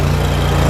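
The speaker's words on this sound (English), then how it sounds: "Cub Cadet GT 2550 heavy duty cold start." Cub Cadet GT 2550 heavy-duty lawn tractor engine running steadily after a cold start, a loud, close, even drone with a constant low hum and no pauses.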